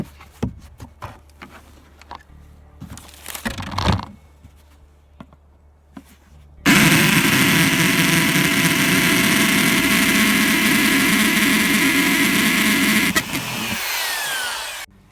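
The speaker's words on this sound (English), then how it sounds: "So this is where I am going to be drilling holes." Some quiet knocks and handling sounds, then a loud, sustained power-drill whir starts abruptly, drilling holes in the bottom of a plastic vermicomposting bin, and runs for several seconds before winding down.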